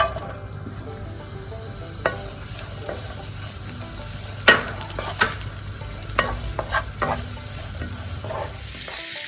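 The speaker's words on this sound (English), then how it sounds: "I'm going to add onions first." Onions dropped into hot oil in a pan for veg hakka noodles, frying with a steady hiss and sizzle while a utensil stirs them in scattered sharp scrapes and knocks.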